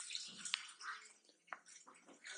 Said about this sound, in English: Now you can see that I am putting uh, water in this kettle.